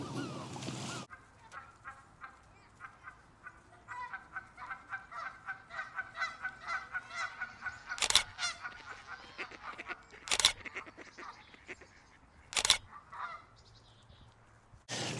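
A flock of geese honks repeatedly outdoors in a rhythmic, overlapping series of calls, moderately close, broken by a few sharp camera shutter clicks.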